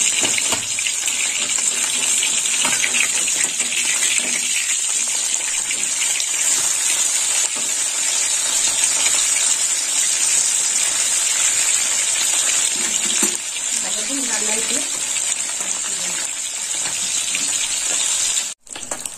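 Bata fish frying in hot oil after being flipped, a strong unbroken sizzling hiss close by, holding steady with a few soft bubbling pops before cutting off abruptly at the end.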